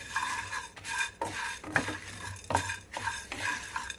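Dried red chillies and fenugreek seeds fry in a pan, a steady crackling sizzle broken by repeated stirring strokes and clinks of a spoon against the metal, close by with no talking.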